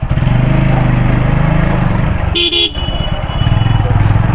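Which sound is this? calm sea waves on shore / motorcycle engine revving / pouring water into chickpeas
motorcycle engine revving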